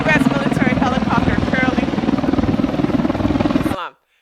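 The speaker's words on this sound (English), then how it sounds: "U.S. military helicopter are currently heavily patrolling the U.S.-Mexico border" A loud US military helicopter thunders close by over the US-Mexico border with a steady rotor chop, voices talking over it, then the sound cuts out abruptly near the end.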